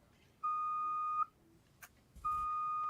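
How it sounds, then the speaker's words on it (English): A reversing vehicle gives out two long electronic backup beeps, each a steady pure tone lasting under a second, separated by a quiet gap with a brief clatter, heard fairly clearly over low background noise. "Oh, he's backing up now. Say, there goes the beeps."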